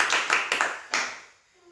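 A church congregation claps for God: a few sharp, separate claps, loud at first and then quickly tapering off into near silence.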